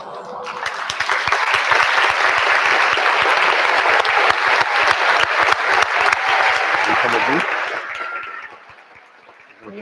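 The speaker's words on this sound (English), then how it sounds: "Let's hear a round of applause for Dr. Goodall." An audience at an evening talk by Dr. Jane Goodall breaks into sustained, loud applause that fills the room for about eight seconds before fading, with a few voices heard near the end.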